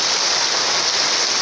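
Heavy rain with thick drops pounding sheet-metal roofs in La Libertad, El Salvador, a dense, steady roar that continues without a break and has no voices over it.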